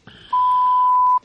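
A sustained electronic beep tone played as a radio show sound effect, loud and steady for nearly a second after a brief softer onset, with no talk over it.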